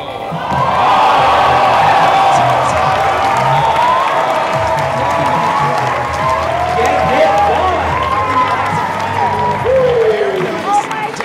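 Crowd cheering and applauding throughout a freestyle battle at the 2014 North American Parkour Championships, a loud, steady roar of voices with whoops rising and falling, and a commentator talking over it.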